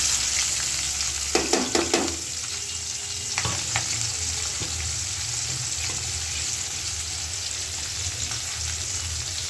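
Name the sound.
onions and chilies frying in a pan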